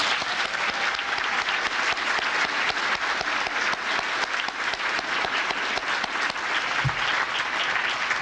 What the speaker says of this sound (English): I think we ought to give her a round of applause.